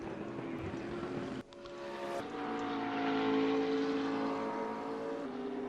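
A Porsche race car lapping Mount Panorama during a race, its engine a loud, steady drone with a brief dip before it rises and holds near the final corner, with no talk over it.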